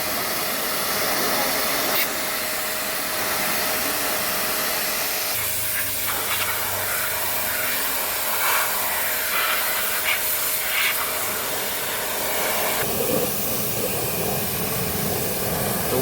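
Water sprayed under pressure to wash dust off a Commuter van's air conditioner housing, a loud, continuous close hiss that shifts in tone as the nozzle moves, with no pauses.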